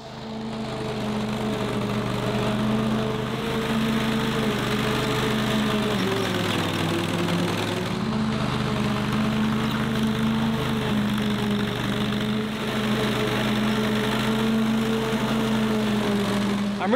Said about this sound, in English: I'm gonna mow that same strip so I'm not dealing with as much loose grass